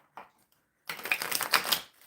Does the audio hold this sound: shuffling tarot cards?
yes